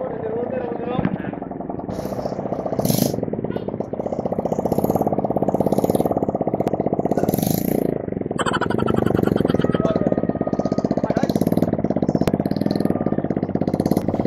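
A modified motorbike engine runs steadily up close with a dense rapid rattling pulse, holding a fairly constant loud level throughout, with voices in the background.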